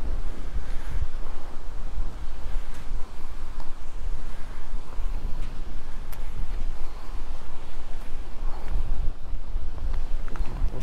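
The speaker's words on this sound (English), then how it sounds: "Man, I can't believe how windy it is." Strong wind buffets the microphone at a lake park on Stillhouse Hollow Lake in Texas, a loud continuous roaring rush with possible waves underneath.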